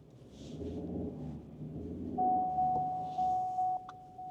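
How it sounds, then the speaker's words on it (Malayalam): The unfastened seat belt warning chime rings inside a Ford Endeavour 3.2, a steady electronic tone sounding repeatedly in the latter half over low cabin rumble, with faint voices early on. "സീറ്റ് ബെൽറ്റ് ഇട്ടിട്ടില്ല, അതിൻ്റെയാണ് ആ സൈൻ ഇങ്ങനെ അടിച്ചുകൊണ്ടിരിക്കുന്നത്"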